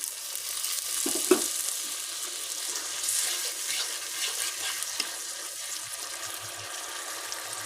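Spice paste for a fish curry sizzles steadily while it is sautéed in a pan, a close, continuous hiss with a couple of faint stirring knocks.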